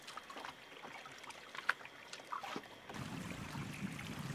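A sailing boat glides through water in a steady breeze, with soft continuous washing and trickling of water along the hull, quiet and close, swelling slightly louder toward the end.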